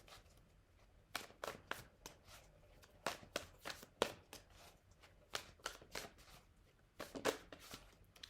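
Tarot cards shuffled by hand in a series of crisp riffling bursts, several quick flurries spaced across the stretch with short quiet gaps between them, close and fairly soft.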